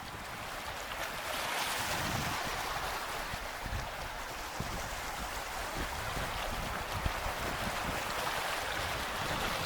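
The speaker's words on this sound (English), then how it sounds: "I could watch the waves for hours." Ocean waves wash and surge steadily with a broad, airy roar, continuous and fairly close, with no voices over it.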